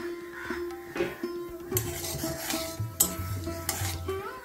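Whole cumin seeds, a dried red chilli and whole garam masala crackle and sizzle in hot oil in a pan, with utensil clinks and stirring scrapes over a steady frying hiss, close and moderately loud, no talking.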